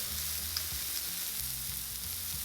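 Meat patties frying in a pan for a rice burger give off a steady, close, hissing sizzle that runs unbroken throughout, with faint low music underneath.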